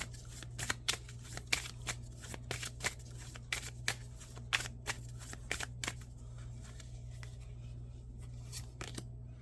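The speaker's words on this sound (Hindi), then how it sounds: "हम सिर्फ 2 कार्ड निकालेंगे।" Tarot cards shuffled by hand in a series of quick, crisp riffling snaps over a steady low hum, fairly close and moderately loud.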